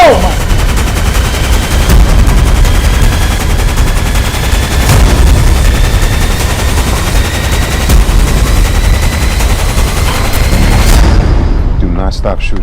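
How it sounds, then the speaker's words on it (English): Dense, loud gunfire and rapid automatic bursts fill a true crime docudrama trailer without a pause, then cut off abruptly near the end. "Do not stop shooting."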